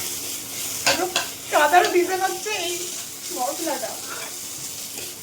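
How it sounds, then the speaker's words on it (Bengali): Egg and vegetables fry in a pan with a soft, steady sizzle while a person talks over it at close range. "সমস্ত সবজি ভাজা হয়ে গেছে, আর ডিম ভাজাটা আমাদের চলছে।"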